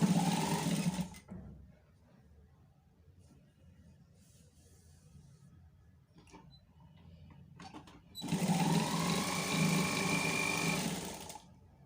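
A sewing machine runs in two bursts while stitching a sleeve seam, first briefly and then for several seconds. Quieter handling noise fills the gap between the bursts.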